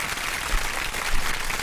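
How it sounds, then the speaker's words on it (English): Audience applause at a live stream show about peace in the neighborhoods, a short dense burst of clapping from a crowd, loud and steady with no talk. "Give them a round of applause for that."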